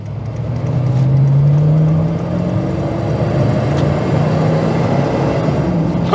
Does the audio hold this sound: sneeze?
no